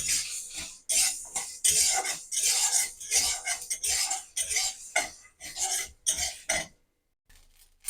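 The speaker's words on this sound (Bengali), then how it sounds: "শুকনো লঙ্কাটা অনেকটাই ভাজা হয়ে গেছে, এবার আমি বাকি সব গোটা মশলাগুলো দিয়ে দেবো, দিয়ে সবগুলোকে একসাথে ভেজে নেবো।" Dried chillies and whole spices for green chilli pickle fry in a pan, heard as a busy run of scraping, stirring and metallic clinks in short bursts, close and fairly loud, ending in a brief near-silence.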